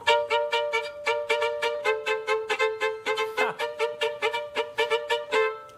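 A bouncy, rapid melody of short repeated notes plays steadily at a driving rhythm, bright and upbeat, with a brief sliding swoop midway: a theme played by a live orchestra.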